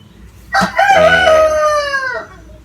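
A chicken on a farm gives a single loud, close crow, drawn out for over a second and then trailing off into quiet.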